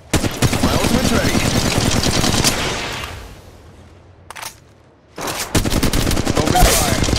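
Rapid automatic gunfire in the shooter video game Apex Legends, loud close bursts of rattling shots that pause briefly, with a short burst in the gap, before resuming in a dense volley.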